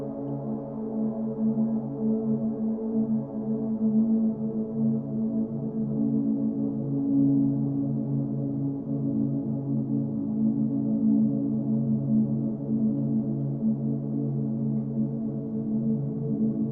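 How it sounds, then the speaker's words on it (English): Arturia Pigments generative ambient pad synth, a soft sustained drone whose warm low and mid tones slowly shift and swell, holding steady at a moderate level with no voices. "I'd like to show you how to create a generative ambient pad."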